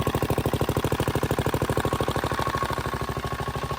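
Mahindra tractor engine running steadily after a kick start, a close, loud, rapid diesel chugging with a fast even beat throughout.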